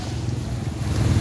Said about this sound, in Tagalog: Baha. Oo nga po eh. Ang lakas. Daming tubig.